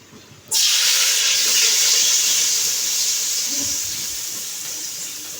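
Thinly sliced onions hit hot oil for a prawn biryani, bursting into a loud, steady sizzling hiss about half a second in that carries on close and strong, easing only slightly toward the end.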